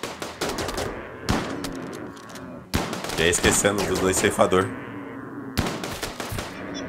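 Gunfire in the video game Rimworld, sharp rapid shots in bursts and volleys, some spaced single cracks and some clustered runs, loud and close, mixed with someone talking over the shooting.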